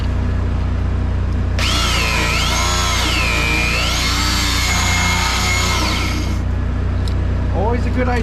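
A power tool grinds rust, paint and road grime off a cracked semi-truck tag axle during mobile welding repair, a loud whining drill-like tone that rises and wavers for several seconds over a constant low engine rumble outdoors.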